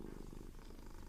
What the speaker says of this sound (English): that purring is really loud